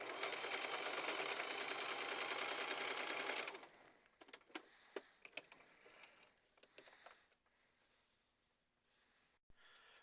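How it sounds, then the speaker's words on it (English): Sewing machine running a zigzag stitch along a fabric edge while making a reusable fabric wine bag, a steady loud whirring buzz for about three and a half seconds that stops, followed by quieter scattered clicks and handling noises. "the zigzag stitch will form on and off the fabric, creating a binding as I sew and keep the fabric from fraying"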